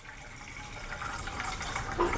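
Water is poured into a drinking glass at close range, a steady, splashy hiss that swells slightly as the glass fills, with no talking.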